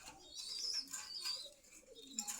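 Pigeons at a bird market in Meradia Bazar, Khilgaon, Dhaka, including raced pairs, cooing and calling steadily at close range with faint background chirps and no talk.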